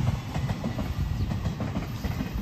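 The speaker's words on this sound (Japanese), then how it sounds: "あ、電車だ。" A train clatters past steadily with rhythmic clickety-clack and a low rumble at an outdoor museum in Nakama, Fukuoka, continuous and moderately close.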